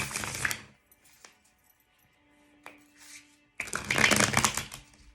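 Tarot cards shuffled in two close, crisp bursts of riffling and flicking, with quiet gaps and a faint tap or two between them.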